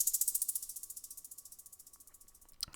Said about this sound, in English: I just added this hat sound effect.